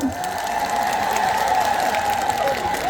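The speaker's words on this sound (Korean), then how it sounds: "큰 박수 한번 모치시겠어요?" A crowd applauds steadily at the celebratory concert of the 17th Cheongsong Apple Festival. Outdoor audience clapping holds at an even, moderately loud level for the full three seconds, with no voices over it.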